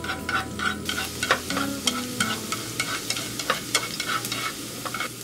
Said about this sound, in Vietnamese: Đợi dầu nóng thì mình cho tỏi vào phi thơm.